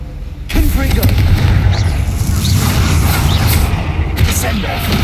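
Fiery Confringo blast spell exploding in the Hogwarts Legacy video game, a loud booming burst opening a dense rumbling stretch of combat noise with further blasts and impacts, under shouted spell talk.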